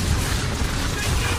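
Cannon volley explosions in Assassin's Creed 3: a dense, loud, continuous rumble of blasts fills the whole short moment, booming without clear separation between shots.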